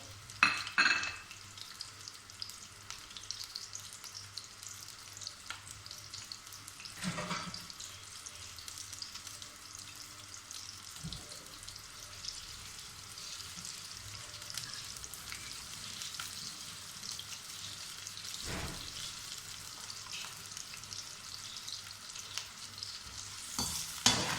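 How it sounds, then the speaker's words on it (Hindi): Onions frying in hot oil in a karahi for karahi gosht, a steady broadband sizzle with occasional stirring bursts, close and continuous with no talk. "प्याज को हम हल्का फ्राई करेंगे, हमने ज़्यादा फ्राई नहीं करना"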